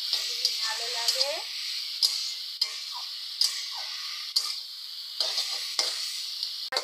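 Pond-picked water spinach (kolmi shak) is stir-fried in a pan over low heat, a continuous soft sizzle punctuated by regular sharp clicks of a spatula scraping and tapping the pan.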